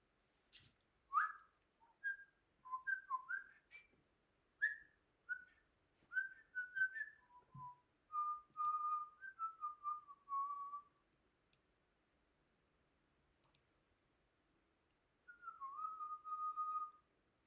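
A man whistles a loose, wandering tune in short phrases and quick notes with brief gaps, a longer silent pause near the end, then a final sliding phrase, close and clear with no talk.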